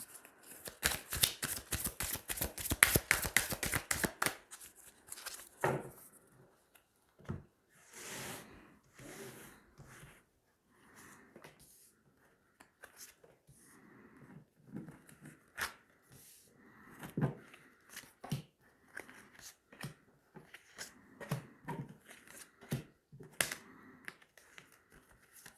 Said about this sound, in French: Allez, on va tirer 9 cartes.